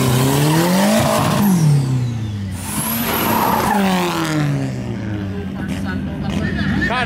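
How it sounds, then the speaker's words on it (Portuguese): A Chevrolet Caravan turbo with a loud exhaust revs and accelerates nearby, its engine note climbing, dropping through gear changes and climbing again, while someone talks over it. "Cara, eu gosto de carro com escape. Acho legal, carro turbo com escape."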